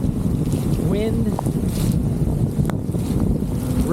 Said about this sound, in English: It's pouring pretty hard.